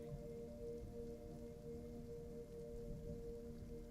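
Steady, soft rain hisses evenly throughout, faint and continuous with a low constant hum beneath and no voices.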